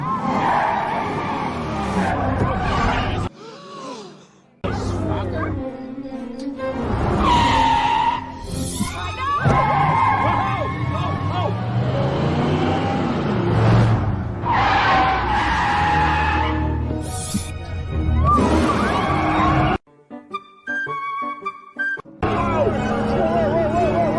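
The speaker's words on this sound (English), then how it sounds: "This is how it would go if you had a car chase in Manhattan." Car chase through Manhattan with tires skidding and squealing, engines roaring and a brief crash, loud and continuous, with voices over the action.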